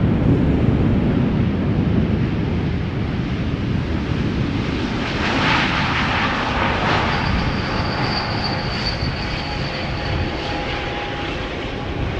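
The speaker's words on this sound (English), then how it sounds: "I'm guessing it's going to be a very quiet landing." A jet airliner landing at Schiphol Airport makes a loud, steady roar of engines from a moderate distance, with a rising whine partway through and continuous rumble throughout, no voices.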